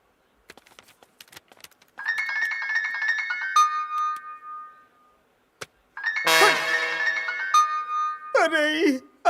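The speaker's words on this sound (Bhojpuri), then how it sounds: "अरे अंजलि काहे खातिर फोन करत आड़ी?" A mobile phone ringtone plays an electronic melody of sustained repeating tones, pausing briefly before sounding again louder, with a short voice at the end.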